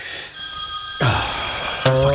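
A telephone rings with bright electronic trills, loud and close, repeating in short bursts.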